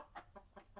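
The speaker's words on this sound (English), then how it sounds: "When you see a hen, click on it to begin attacking." A hen clucks in the video game Legend of Mir, four short soft clucks in a quick, even rhythm, faint and alone.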